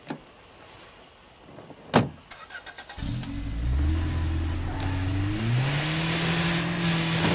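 A car in the State of Decay 2 video game: a door-like thump and clicks, then from about three seconds an engine starts and holds a loud, steady rising drone as it drives off, with no talk.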